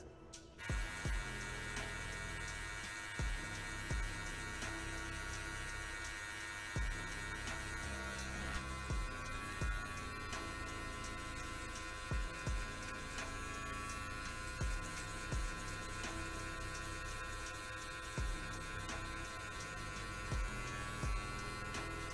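Electric hair clippers fitted with a 1.5 guard, lever closed, buzz steadily while cutting hair for a self-cut mohawk, the hum shifting in tone as the blade passes through the hair, with occasional soft knocks.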